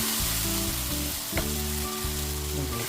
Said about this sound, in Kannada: ಈ ಥರ ಚೆನ್ನಾಗಿ ಅದು ಎಣ್ಣೆ ಬಿಟ್ಕೊಳ್ಳೋವರೆಗೂ ನೀಟಾಗಿ ಫ್ರೈ ಮಾಡ್ಕೋಬೇಕಾಗುತ್ತೆ 1-2 ನಿಮಿಷ.